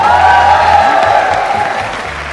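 Studio audience applause and cheering at a televised singing competition's battle round, a steady crowd wash over a low music bed, holding level then easing slightly toward the end.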